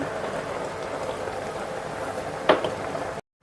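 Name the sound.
rice boiling in a pot for ragi sangati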